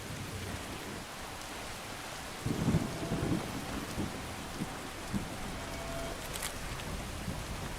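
Steady rain in the video game Skyrim hisses across a surface, with a few soft rumbles and scattered drops breaking through the even patter.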